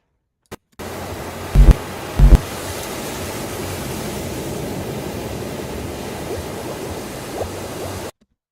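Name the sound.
bubbling sound effect in an edited dream sequence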